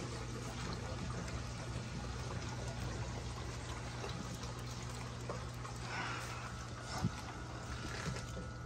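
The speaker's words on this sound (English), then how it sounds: "I'm gonna drain the water a bit." Water drains steadily from a filter barrel in a three-barrel filter system during end-of-season shutdown, a continuous pouring trickle close by with no talking.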